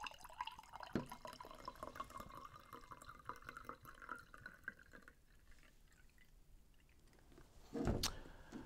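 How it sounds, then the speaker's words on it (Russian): Vinegar is poured into a glass, a quiet liquid trickle with soft drips, ending in a brief louder splash near the end. "Наливаем в бокал."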